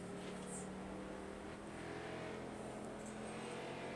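Distant race car engines drone and whine steadily, a faint continuous roar from an oval speedway with a couple of higher passing whines during late model racing.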